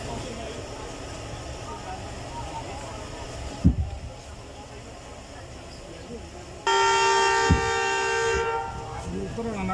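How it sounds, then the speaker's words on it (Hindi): Locomotive whistle of the Ravi Express departing Shahdara Junction station on the Lahore to Nankana Sahib run: a steady, fairly loud tone lasting about two seconds, rising over a busy platform murmur with voices. "लोकोमोटिव ने विशेल दे दी। अब गाड़ी यहाँ से रवाना होने वाली है"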